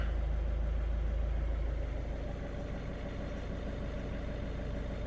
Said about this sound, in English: I can definitely hear the turbo spooling, not spooling, just running.